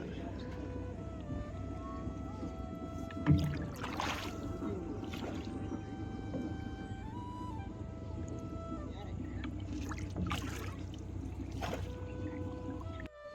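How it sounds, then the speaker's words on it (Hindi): A boat crossing the Narmada River carries pilgrims with bikes, its motor a low steady drone with occasional water sounds, while voices chant and talk over it. "इस बोट में बैठ के हम इस नदी को पार करके अब बढ़ते हैं आगे।"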